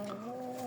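Young hens kept for sale give a short, steady, tonal vocal call, close and clear, with no talk over it.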